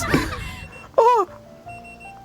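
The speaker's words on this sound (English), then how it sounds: "it sounds like there's an alarm clock" An alarm clock rings in Genshin Impact, a short burst of electronic chiming tones after a loud game sound, then settling into soft sustained beeps and ambient hum, with no talking.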